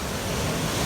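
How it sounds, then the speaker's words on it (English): Ocean surf rolling onto the shore along the Pacific Coast Highway near Black Swift Falls, a steady broadband wash of breaking waves with wind noise, continuous and fairly close. "Here comes some more waves."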